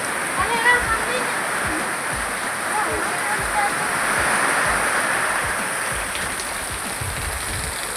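Heavy monsoon rain pours steadily as a dense broadband wash throughout, with voices talking over it.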